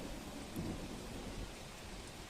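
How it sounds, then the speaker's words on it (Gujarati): Steady, dense heavy rain in Surat, Gujarat, hisses close by with a low rumbling undertone, constant and unbroken. "વહેલી સવારથી જ વાદળછાયા વાતાવરણ વચ્ચે ધોધમાર વરસાદ વરસી રહ્યો છે"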